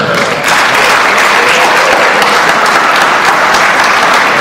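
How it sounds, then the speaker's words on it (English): An audience at a high school science and technology fair awards ceremony breaks into loud, steady applause for the top winners, a dense wash of clapping that swells in after a brief pause and holds evenly. "Let's give a round of applause to our top winners."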